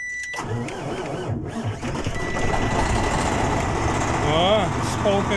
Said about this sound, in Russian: С полпинка завелся.